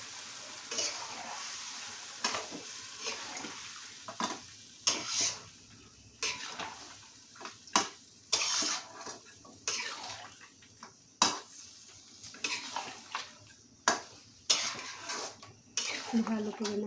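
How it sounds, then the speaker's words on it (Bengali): Parboiled meat being stirred in a pan with a metal spoon, repeated scraping and clanking strokes against the pan over a soft, steady frying sizzle, with occasional pauses between stirs. "ভালো করে নাড়িয়ে চাড়িয়ে এটাকে একটু কষতে দিব।"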